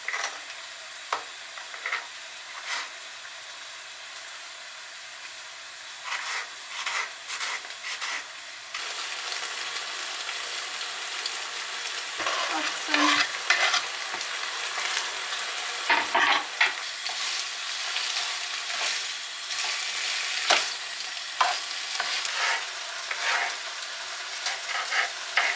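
Chicken with hard vegetables and peppers sautéing in a hot pan, a steady loud sizzle broken by repeated scraping stirs, with no talking.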